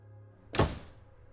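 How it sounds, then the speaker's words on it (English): A single heavy slam of an attic door, one loud low thud at close range with a short fading rumble, set against quiet background hum. "the attic door slammed from the other side"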